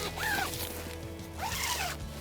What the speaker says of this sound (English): you can zip this up halfway